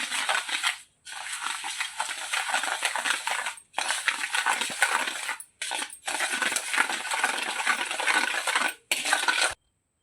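Sugar and curd mixed in a bowl for a sponge cake, a close scraping and stirring of utensil against bowl in long steady strokes with a few short pauses, no talking.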